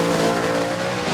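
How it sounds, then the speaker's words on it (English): Big, heavy front-engine Chevy V8 race car at the Goodwood Festival of Speed hillclimb in England, a loud, sustained engine roar passing close by, steady and unbroken for the whole moment. "Front engine Chevy V8 pushing out huge amounts of power."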